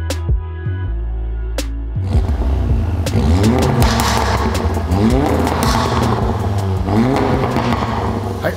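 A VW Golf 7 R with a new exhaust system, its engine revving loud and close in repeated rising and falling sweeps after an idle start.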